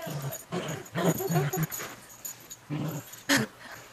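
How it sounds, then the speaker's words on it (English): A dog whimpers and whines in several short bursts, close by and fairly loud, with breathy pauses between the cries and no talking. "I have retrieved the dog."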